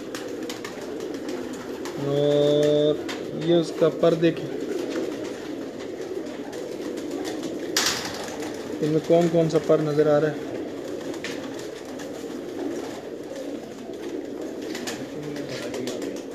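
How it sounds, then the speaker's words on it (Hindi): Bachchu Miyan breed pigeons from a breeder's Sialkot loft coo in two short rolling bursts, close by, with someone talking over much of the clip. "ये बच्चू मियाँ ब्रीड में से कबूतर है"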